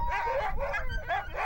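A Greenland sled dog whimpers and yips close by in high, wavering cries, several short bursts in quick succession, with no talking over it.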